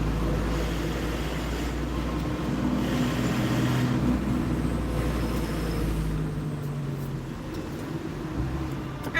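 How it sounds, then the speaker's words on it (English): A garbage truck on an asphalt street, heard as a loud, steady, low engine rumble that holds throughout with little change, close to the listener. "the asphalt which I'm showing you, and a garbage truck in front of me"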